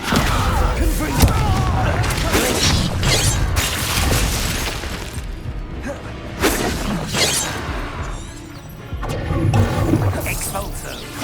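A Confringo fire spell bursts in Hogwarts Legacy combat, with booms, crashes and whooshing blasts in rapid succession over a dense battle soundscape, while a character voice calls out spell names.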